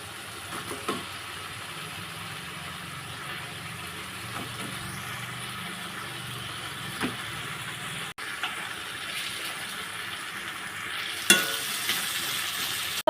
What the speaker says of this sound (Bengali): এবার ধুয়ে রাখা চিকেনগুলো দিয়ে দিচ্ছি।